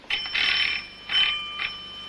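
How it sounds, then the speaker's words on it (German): An electric bell rings in another room in a 1932 film, sounding in three bursts: a short one, a long sustained ring, then two briefer rings, with a steady tone running underneath. "Es klingelt jemand im blauen Zimmer."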